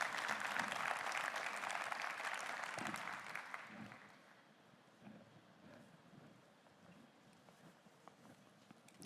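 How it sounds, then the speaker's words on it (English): Round of applause from a tourism forum audience, loud and dense for the first few seconds, then thinning out and fading to a quiet room. "a round of applause for yourselves"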